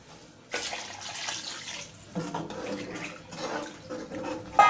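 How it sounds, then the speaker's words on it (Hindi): Water pours into a cooking pot for matar biryani, about two litres added, a broad splashing gush in several bursts over a few seconds, close and fairly loud with no talk. "हम इसमें दो लीटर पानी डाल देंगे"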